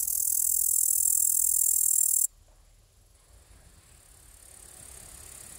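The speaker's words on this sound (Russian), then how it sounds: "вот у него крылышки дрыгаются, трутся друг об друга, и из-за этого получается вот такой" A green grasshopper in the grass chirps by rubbing its wings together. It makes a steady, close, high-pitched buzzing whistle that cuts off abruptly, then resumes more faintly and gradually grows louder.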